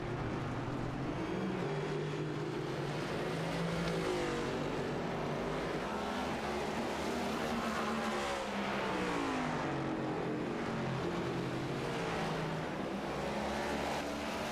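Several race car engines in an all-star event in a sim racing game, droning and revving continuously as the cars run around the track, heard faintly at a steady distance.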